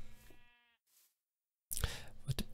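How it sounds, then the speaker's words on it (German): Sheep bleating in the Minecraft modpack Life in the Woods: a harmonic game bleat rises briefly at the start, followed by a gap and then louder clicking and rustling game sounds. "Schafe."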